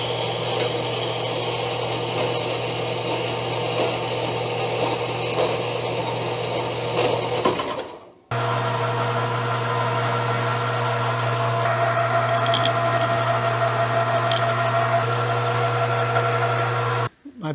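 A metal lathe cuts off and faces a metal part, a steady close machine whine with a humming drone that stops abruptly partway through, then resumes and runs on before cutting out.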